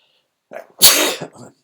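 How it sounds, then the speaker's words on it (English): A single sharp sneeze, close and loud, preceded by a short breathy intake. "Sorry, I needed to sneeze."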